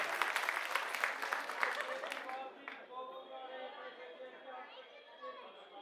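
At an AAP political rally with MP Sanjay Singh in Mundka, Delhi, a crowd bursts into brisk, dense clapping for about two seconds, then the applause fades into scattered claps and murmuring chatter.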